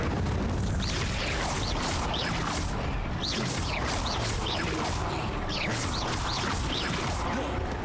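Incendio fire spell cast in the video game Hogwarts Legacy: a loud, dense roar of flame that runs unbroken throughout, with a string of bright whooshing bursts rising out of it again and again, and no voices.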